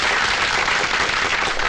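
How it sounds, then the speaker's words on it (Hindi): Applause from an audience greeting a newly introduced figure in an action film scene, a dense, steady wash of clapping throughout with no talk over it. "तालियां।"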